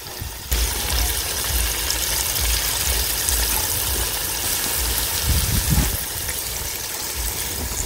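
Water poured into a cooking pot of stew for a Beninese hors d'oeuvre dish, a loud steady close-up gushing stream with a faint hum underneath and no talk.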